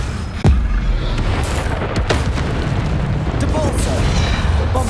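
A Bombarda explosion spell goes off in the video game Hogwarts Legacy: a sharp, loud blast early on, followed by a dense rumbling roar of combat effects and further bursts throughout.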